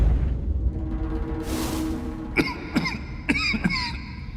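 A video game character in Nine Sols coughing, several short hoarse coughs in quick succession after a brief rustle, close and clear with no talk.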